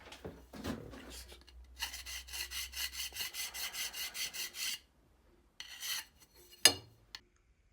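Steady rhythmic rasping strokes of a metal file deburring metal edges in a model locomotive build, about a dozen even back-and-forth passes close up, then a pause and a few final scrapes and a clink.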